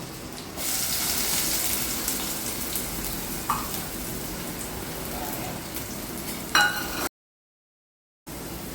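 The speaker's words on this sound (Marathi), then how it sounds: "थोडं लसूण लाल झाल्यानंतर मी ह्यामध्ये टाकणार आहे कांदा" Onion frying with garlic in a pan over a low flame makes a steady, close sizzle with a couple of brief clinks, before the sound cuts out abruptly near the end and then returns.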